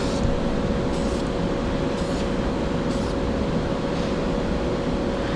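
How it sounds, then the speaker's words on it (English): A rattle can sprays top coat onto a 1966 Chevy Nova, a loud, close, steady hiss that holds without a break. "I'm going to come back with my top coat, and again I'm using a rattle can"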